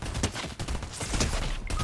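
Rapid gunshots crackle in a video game firefight, a dense, loud, continuous burst of fire with no voices over it.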